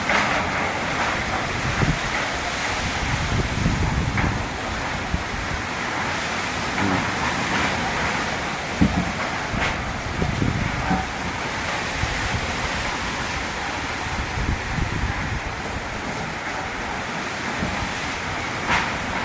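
Typhoon wind and heavy rain in Cebu City make a steady, dense roar with gusting surges and scattered patters and knocks, continuous and unbroken for the whole stretch with no voices.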